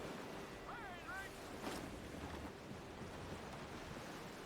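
Wind and waves at sea in Assassin's Creed Black Flag, a steady broad rush of surf and gusting wind with a brief whistling tone early on, continuous and moderately loud throughout.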